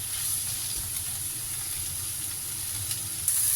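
Leftover roast chicken with frozen mixed vegetables frying in a pan, a steady hissing sizzle with soft stirring, rising slightly louder at the end.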